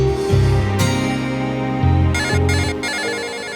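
A mobile phone rings with a loud melodic ringtone, repeating electronic tones in short bursts, close and clear with no talking.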